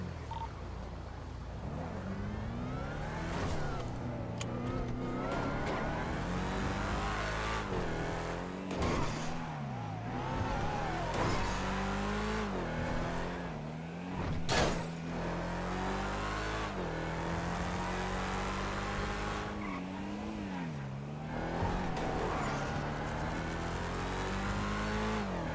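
Car engines rumble and rev steadily in a roleplay video game, with shifting pitch as vehicles accelerate and drive about near a driveway; one continuous, fairly loud drone with occasional surges, no talking over it.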